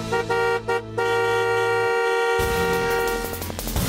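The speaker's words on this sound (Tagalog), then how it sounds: "heto na ang busina sa patrol" Car horn honking as a TV Patrol news segment opener: sustained, bright horn tones that hold steady, then shift into a denser blaring blast, loud and alone without talking.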